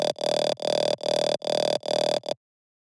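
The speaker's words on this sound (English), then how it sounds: "In Serum, the dry patch sounds like this." A dry Serum synth patch for a dubstep mid layer sounds five sustained buzzy notes of even length with brief gaps, loud and close, then silence.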